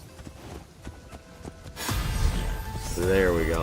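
Rhythmic hoofbeats of a horse in Assassin's Creed Shadows clop along quietly, then a louder, rushing game soundscape swells in and a voice speaks over it.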